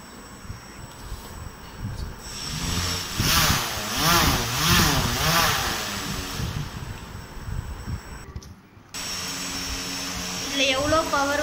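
A homemade toy RC aeroplane's electric motor spins its propeller with a close, buzzing whir that swells and dips in repeated waves, then settles into a steadier, higher whine near the end.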